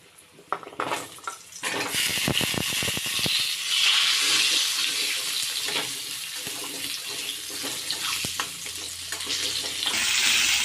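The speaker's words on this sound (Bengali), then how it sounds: "এরপর ওই তেলেতেই আলুগুলো ভেজে নেব।" Potatoes dropped into hot oil already used for frying duck eggs, a few clattering knocks at first, then a loud, steady, close sizzle and bubbling that runs without talk.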